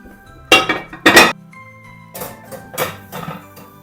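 Greased baking dish of rice casserole set into the oven, two loud close clanks of metal and glass followed by softer rattles and clinks as the rack settles.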